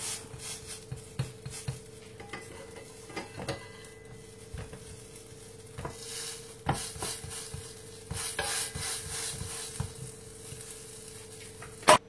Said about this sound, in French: Comme je vous avais dit qu'il faut surveiller la cuisson, je vérifie si le côté du dessous est bien doré pour retourner la galette.